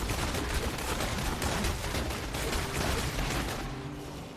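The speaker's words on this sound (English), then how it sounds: "You just pretty much hit Vengeance and you hold down crossbow shot." Rapid crossbow volleys from a Demon Hunter using the Vengeance skill in Diablo Immortal form a dense, continuous barrage of sharp shots that fades slightly near the end, with no voices.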